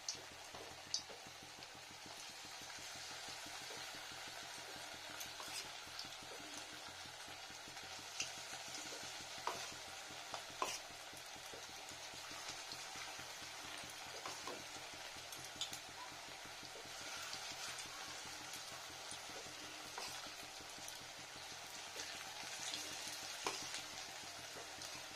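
Cauliflower pakoras in batter frying in hot oil, a steady soft crackling sizzle with scattered pops, continuous and fairly faint throughout, no voices.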